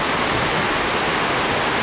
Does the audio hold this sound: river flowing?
yes